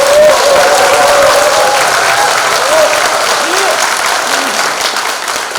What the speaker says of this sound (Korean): 우리 박홍근 대표 더 큰 힘내라고 큰 박수 한번 좀 보내요.